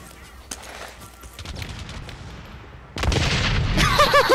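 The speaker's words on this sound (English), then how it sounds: "that was the easiest grenade kill ever" A grenade explodes in the first-person shooter Blacklight Retribution: a sudden loud blast breaks in after a stretch of quieter gunfire and stays as a dense, roaring burst to the end.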